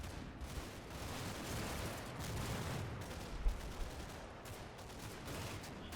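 Distant 81mm mortar rounds in Combat Mission, a WWII street-fighting game, pound a corner as a continuous rumbling barrage of muffled blasts and crackling gunfire, with a couple of louder impacts rising out of the din.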